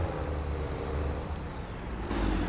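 A farm vehicle engine in Farming Simulator 22 drones steadily and loud, with a broad low rumble and a thin high whine throughout, swelling slightly near the end as the throttle comes up.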